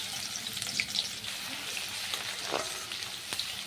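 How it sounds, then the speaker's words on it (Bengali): Grated garlic sizzles in very hot oil with a pinch of sugar, a dense close crackling hiss holding steady throughout with a few faint pops and no one speaking. "তেলটা যখন খুব গরম হয়ে গেছে আমি এখানে গ্রেট করা রসুন দিয়ে দিলাম।"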